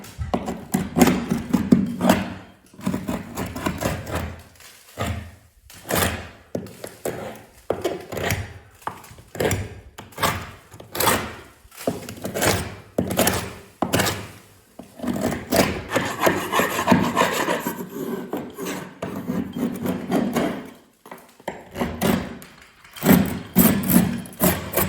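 A utility knife scrapes and gouges loose plaster out of a wall crack in repeated short rasping strokes, close and fairly loud, coming in uneven bursts with brief pauses between them.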